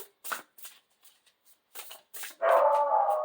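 Indoor dog barking at a package delivery: a handful of short, sharp barks in an uneven burst, ending in a longer, louder yelp-like bark close by.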